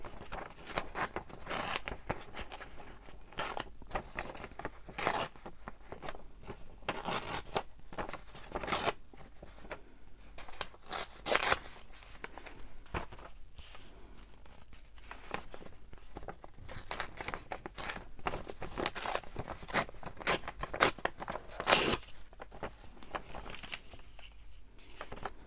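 Paper is torn by hand for a handmade envelope: repeated short ripping and crinkling bursts at close range, scattered irregularly over a quiet background.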